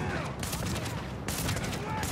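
Rapid gunfire in Tom Clancy's The Division, with steady bursts throughout and two louder volleys, layered over game effects and faint background voices.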